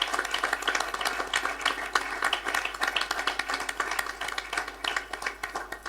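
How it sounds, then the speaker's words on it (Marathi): An audience applauds at an event with dense, continuous clapping from many hands, moderately loud throughout. "सर्वांतर्फे एकदा जोरदार टाळ्या."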